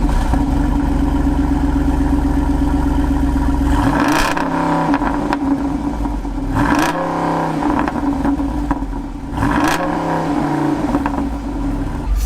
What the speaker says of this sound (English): it has a very unique exhaust system that you're about to hear